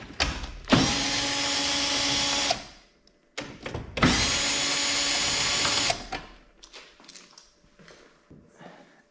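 A power tool whirs loudly in two sustained runs as it backs out two bolts from the front bumper of a Toyota GR Yaris, with short clicks and handling noises between and after.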